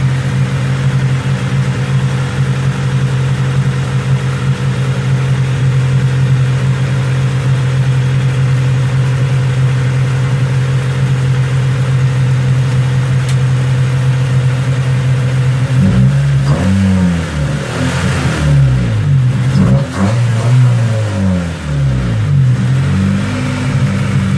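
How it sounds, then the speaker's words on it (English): A 1993 Honda Civic DX with a D15B VTEC engine, fitted with a new distributor, idles steadily and loudly up close, its even drone holding throughout with a rougher, uneven stretch near the end. "Seem to be idling a lot better."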